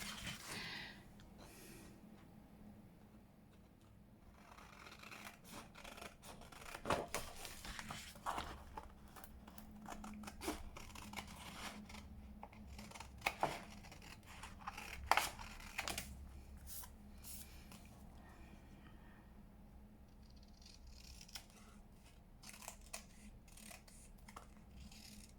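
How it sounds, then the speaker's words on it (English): Scissors snip around paper shapes for a junk journal, a scattered series of faint, quiet cuts and rustles at close range. "let's cut round these. Get me bigger scissors."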